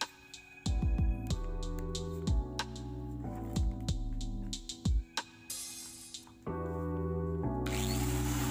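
A power sander on wood whirs in repeated bursts, starting and stopping several times, with a brief hissing rasp near the end, close and fairly loud.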